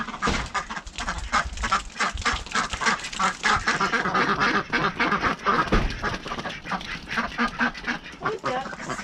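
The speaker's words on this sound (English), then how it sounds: "Oh, ducks." A flock of ducks quacks excitedly and continuously as a delivery arrives from a farm shop in Ponthir, many loud overlapping calls close by with no pause throughout.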